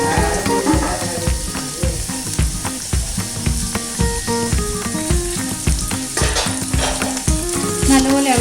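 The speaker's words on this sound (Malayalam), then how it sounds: "നല്ലപോലെ ഇളക്കി കൊടുക്കാം." Garlic and green chillies sizzle loudly in a hot oiled pan as they are stir-fried for a spinach and egg thoran, with steady crackling frying and repeated clatters of a spoon stirring against the pan.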